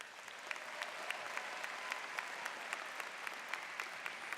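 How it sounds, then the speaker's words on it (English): Sustained applause from a university commencement crowd for the University of Michigan-Flint Wind Symphony. It is a steady, fairly distant wash of clapping, with a few sharper individual claps standing out. "a round of applause for our commencement orchestra, the University of Michigan-Flint Wind Symphony"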